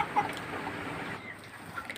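Two-month-old tiger chickens cluck softly inside a small coop, a few faint calls over a low background hum.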